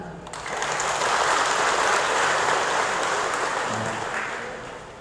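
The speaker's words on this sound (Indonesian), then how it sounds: "Tepuk tangan." Applause from an audience at the inauguration of a market, a dense, loud wash of clapping that swells and holds steady for several seconds before slowly tapering off.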